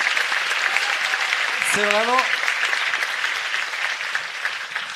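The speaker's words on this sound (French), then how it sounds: "on peut applaudir Caro et Mélanie du planning familial de Questember du 56" Applause from an audience at a talk on countering the far right, steady clapping throughout, with a voice speaking over it near the start.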